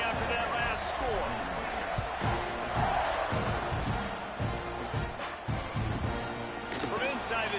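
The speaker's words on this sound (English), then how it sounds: "this crowd is buzzing after that last score" A stadium crowd buzzes and roars steadily at a college football game, a dense continuous wall of cheering and murmur with a commentator talking over it.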